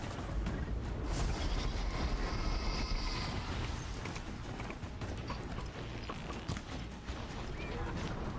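Horse hooves clip-clopping while riding in the Horizon Zero Dawn video game on PS4, a continuous dense galloping patter under loud game noise, with a player talking over it.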